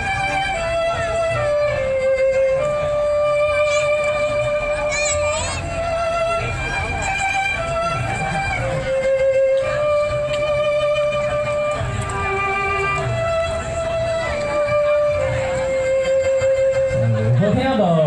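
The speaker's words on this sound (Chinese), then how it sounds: "边听我们小提琴老师拉的声音" A violin teacher plays live at a dinner gathering, bowing clear sustained notes that glide into new pitches in a slow melodic line. It is loud and close and lasts the whole stretch with no talking.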